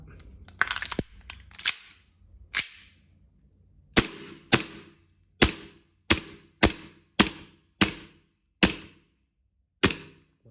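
M1911 BB pistol firing about a dozen sharp, loud shots, first a quick burst of several close together, then single shots at roughly half-second to one-second intervals, each snapping crisply and decaying quickly in a quiet room.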